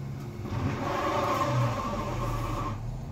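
The engine of a salvaged Audi RS7, damaged in an accident, is cranked and started for the first time, giving a loud, steady mechanical roar that swells and settles over about three seconds, heard close up.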